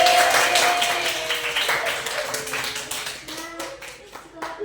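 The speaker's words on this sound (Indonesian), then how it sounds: "Beri tepuk tangan untuk Aulia" A classroom group claps for a student, a dense patter of many hands that gradually thins and fades out over a few seconds, with faint talk beneath.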